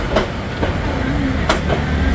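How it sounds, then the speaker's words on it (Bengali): The Korotoa Express pulls out of Mahimaganj station after a short stop, a loud, steady rumble of the moving train with faint rhythmic wheel clatter and a couple of sharp clanks. "নির্ধারিত 2 মিনিটের যাত্রাবিরতি শেষ করে ট্রেনটি ছেড়ে যাচ্ছে নির্ধারিত সময় থেকে 15 মিনিট বিলম্বে"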